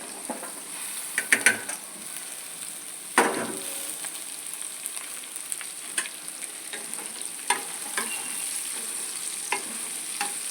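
Onions stirred into a frying bitter gourd (boda kakarakaya) curry, a steady sizzle with scattered scraping and clinking of the spoon against the pan, louder bursts near the start, no voices.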